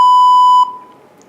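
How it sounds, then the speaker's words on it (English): A single steady electronic beep sounds loud and clear for about half a second, then cuts off into faint background noise, the alert tone that precedes a cyclone warning message on a radio broadcast. "in between this message will come with a beep, and then it will read out the message"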